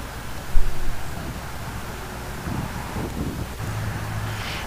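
Strong wind buffets the microphone outdoors as a tracking dog works a course, a steady roaring rush with a low thump early on, no voices.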